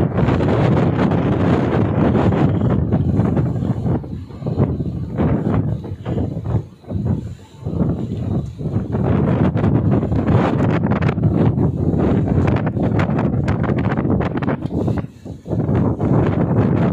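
Strong wind blowing on a Mississippi River cruise boat, a loud continuous roar buffeting the microphone with slight dips and gusts throughout.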